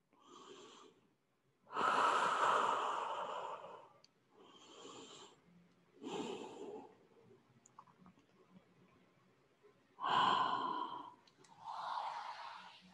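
Slow, deep exhales while resting in yoga child's pose: five or six breathy puffs, each a second or two long and fairly close, separated by quiet pauses, with no talking.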